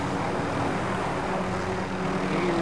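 A helicopter flies in Warzone, producing a steady, loud, broadband rotor and engine drone that holds without a break.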